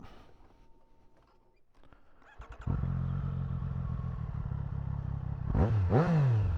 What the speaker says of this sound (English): let's just jump on the bike. Start it right up